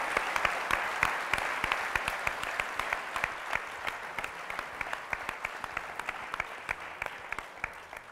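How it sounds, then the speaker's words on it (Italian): Audience applause during an Italian quiz show final, a sustained round of steady clapping with distinct sharp individual claps standing out, fading slightly toward the end. "le facciamo un applauso al nostro avvocato che ci ha accompagnato fino qua"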